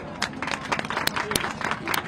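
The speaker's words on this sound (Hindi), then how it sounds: "ये सभी के लिए एक तालियां तो बजनी चाहिए" A crowd at a protest gathering applauds with dense, steady clapping, fairly close and sustained for the whole stretch, while a voice carries on over it.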